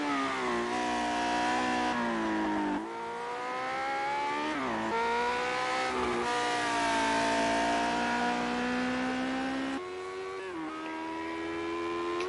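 Lotus 78 race car engine in a racing video game at Spa-Francorchamps, screaming steadily along an empty straight and climbing through several gear shifts, loud and close with no other cars or voices.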